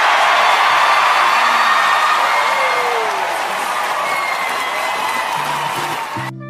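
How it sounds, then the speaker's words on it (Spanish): Loud, sustained audience applause and cheering for a drag performer at a drag competition final, a dense continuous roar of clapping and shouts that fades slightly toward the end. "quiero pedir un fuerte aplauso para BSQ"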